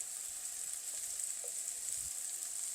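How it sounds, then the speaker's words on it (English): Onions, broccoli and mushrooms fry in a pan with a steady, even sizzle, close and continuous throughout, no voices. "So we're just going to fry these until they soften up a little bit."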